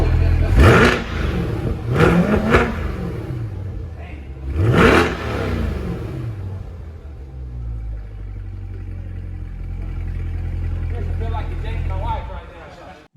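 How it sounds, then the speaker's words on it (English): An Arctic White 2020 C8 Corvette revved fresh off the delivery truck at a dealership, three sharp throttle blips with rising and falling roar, then settling into a steady low idle rumble. "doing a little bit of revving right off the truck"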